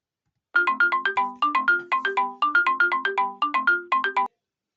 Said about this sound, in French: vous entendrez mon téléphone sonner